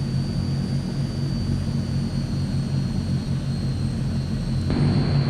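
Transall C160 turboprop engine running in a flight simulator game, a loud continuous droning hum with a steady high whine, constant and close while taxiing, no talk.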